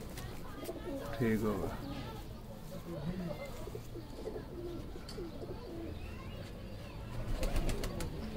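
Pet pigeons coo in soft, repeated rolling calls near a loft, with other birds chirping faintly and someone speaking briefly over them.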